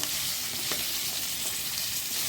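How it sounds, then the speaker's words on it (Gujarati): Loud, continuous sizzling of green chillies with yogurt and spices frying in oil, a constant hiss with faint stirring scrapes, no talking. "આવી રીતે આપણે ફેરવતા રહીશું, ઢાંકીને સડવા દઈશું।"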